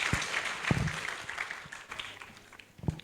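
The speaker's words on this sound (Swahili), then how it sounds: "Situpigie mtoto wetu makofi with the confidence." Scattered, fairly quiet clapping at a church Bible reading in Kenya, greeting a child; a few sharper claps stand out against a thin background over about three seconds.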